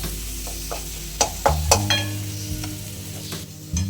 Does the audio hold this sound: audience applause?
no